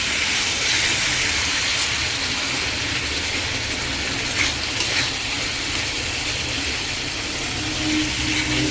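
Spice paste for a Bengali potol and prawn-fritter curry sizzling steadily in a hot pan after a little water goes in, a continuous close hiss and crackle with no talking.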